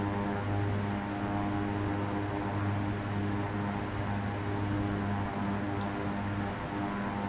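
The steady, droning hum of a light airplane's engine in the X-Plane 11 flight simulator runs on after the throttle is pushed forward, an even, continuous tone with a strong low buzz and no talking.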